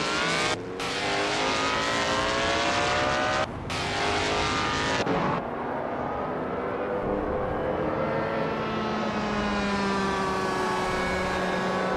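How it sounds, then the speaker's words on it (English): AI-driven race cars in a video game roar past with loud engine whine, shifting pitch as they accelerate, one car's tone sweeping upward alone near the end. "We're just about to watch some exciting AI cars race against each other"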